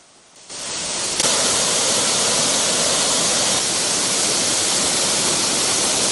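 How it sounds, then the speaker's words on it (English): Reservoir water pours through the two emergency sluice gates of the Angamur tank in Sri Lanka during heavy rainfall flooding, a loud, dense, unbroken rushing roar that starts abruptly and holds steady throughout. "The two emergency sluice gates of the Angamur tank have been opened since last night, releasing water at a rate of 656 cubic feet per second into the Lunuoya"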